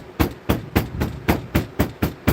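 A hammer taps the edges of a handmade copper gavel in a steady run of about nine light, evenly spaced metallic strikes, close and fairly quiet.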